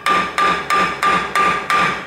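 Unheated metal on a 1956 Chevy build struck with a hammer, six loud, evenly spaced clanging blows with a ringing metallic tone, close up and without voices.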